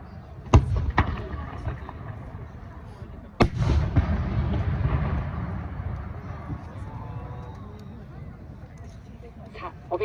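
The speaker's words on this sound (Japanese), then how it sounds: "このような花火は冠の菊と書いてカブロギクと呼ばれております。" Kamuro chrysanthemum (kaburo-giku) fireworks at the Aioi Peron fireworks festival: two sharp booming bursts a few seconds apart, followed by a long crackling, rumbling tail, with crowd noise and voices in the background.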